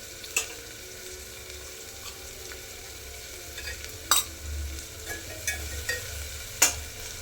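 Turmeric and red chili sizzle in hot oil as they are stirred in, a steady low frying hiss broken by a few sharp scrapes and taps of the spoon against the pan.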